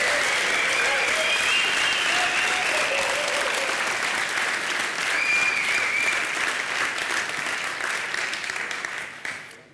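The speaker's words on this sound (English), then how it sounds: "Can I get a round of applause for Mark?" A conference audience bursts into sustained applause, dense and steady for nearly ten seconds with faint whoops mixed in, then tapering off at the end.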